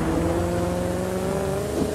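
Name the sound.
car engine revving in video game The Crew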